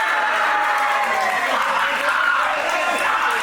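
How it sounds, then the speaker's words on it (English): Audience applause from a Purpose Wrestling crowd, a steady wash of clapping that fills the whole stretch at moderate loudness, with a background voice running underneath. "quite rightly getting an applause from the Purpose Wrestling audience"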